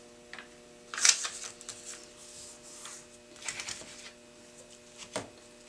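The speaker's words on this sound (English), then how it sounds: "So we are going to fold over the paper" Sheet of paper folded over along a ruled line, giving a few short crisp rustles and creases, close and fairly soft, separated by quiet pauses.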